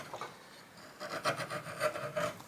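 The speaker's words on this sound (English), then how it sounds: "Sharp chisel, good control," A sharp chisel pares wood on a broken guitar headstock, giving close, dry rasping scrapes in short repeated strokes with brief pauses between, alone without speech.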